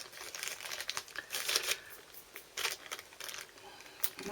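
Close crinkling of a thin plastic bag being handled at a crafting table, scattered rustles and crackles in irregular bursts, fairly soft, with no talking.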